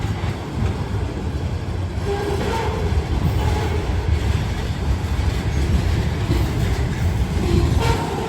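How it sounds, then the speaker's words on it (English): A long CSX freight train rumbles through a level crossing close by, its wagons rattling and clacking steadily for the whole stretch, with horn-like tones rising briefly above the din. "This would be a hard train to jump anyway."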